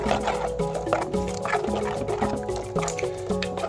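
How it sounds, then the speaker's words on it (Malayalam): Virgin coconut oil is poured into ground curry paste with green chilli, curry leaves and shallots, followed by stirring. The result is a near, wet, gurgling trickle with repeated squishy, dripping pulses and no talking. "അതിലേക്ക് പച്ച വെളിച്ചെണ്ണയും കൂടി ഒഴിച്ച് നല്ല പോലെ ഇളക്കി അങ്ങോട്ട് യോജിപ്പിച്ചു"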